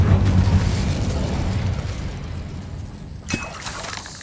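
A fire spell blast from Hogwarts Legacy erupts as a loud, roaring burst that slowly fades, followed by a short sharp crackle near the end.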